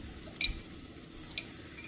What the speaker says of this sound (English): That's hot oil, and I am adding jeera to it.